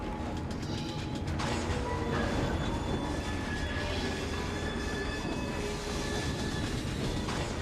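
A train runs on rails in the Assassin's Creed Syndicate video game, a steady, dense rumble of wheels and carriages with faint squeals, continuous and close throughout.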